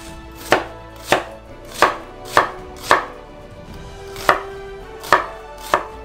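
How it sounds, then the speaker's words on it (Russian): A knife dices an onion against a cutting board, eight crisp thuds spaced about a second apart, close and clear with no talking. "просто шинкуем лук на кубики"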